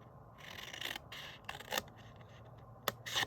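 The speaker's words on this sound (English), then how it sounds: "you can see from the bottom I'm cutting up each of the score lines" Scissors snipping along score lines in card for a mini handbag treat box, several short crisp cuts in separate bursts, close and fairly quiet.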